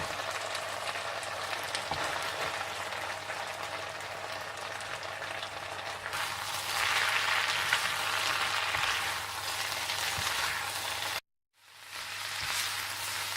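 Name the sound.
chicken frying with capsicum, tomatoes and cabbage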